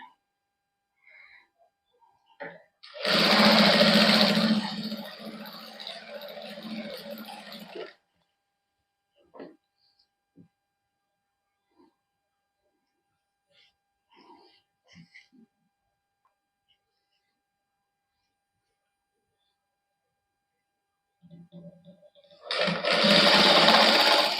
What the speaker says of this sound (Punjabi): ਇਸ ਤਰ੍ਹਾਂ ਇਹਦੇ ਤੇ ਸਿਲਾਈ ਲਾਵਾਂਗੇ